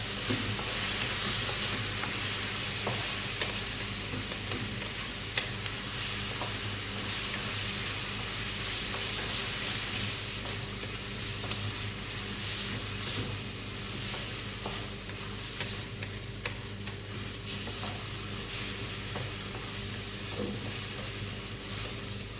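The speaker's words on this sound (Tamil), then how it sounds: "புதினா கொஞ்சம் சேர்த்துக்கலாம். சேர்த்து அதையும் கொஞ்சம் வதக்கணும்." Mint leaves sautéing in a pan for a Tamil-style butter pork masala, with a steady, close sizzle and hiss of frying running the whole time. Faint stirring scrapes sound now and then, and no one speaks.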